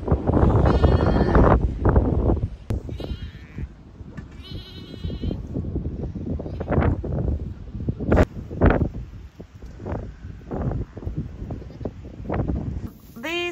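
Newborn lambs and ewes bleat outdoors on a farm during cold, wet, windy lambing weather, with repeated close calls of varying pitch over steady wind and rustling, and a person occasionally speaking.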